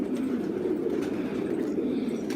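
Soft cooing hums low and continuous from a flock of mixed-colour pigeons at a rehoming gathering in Osmaniye, with faint bustle around it.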